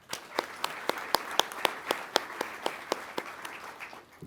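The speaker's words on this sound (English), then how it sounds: "So a round of applause for them." Audience applause at an undergraduate pilot training graduation ceremony: a modest crowd claps in a steady stream of sharp, distinct claps that fade out after about four seconds, with no talking over it.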